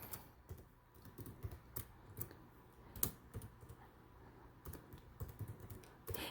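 Quiet, rapid typing on a computer keyboard while entering a search into Google, a close, uneven patter of light key clicks with a few sharper taps and no voices.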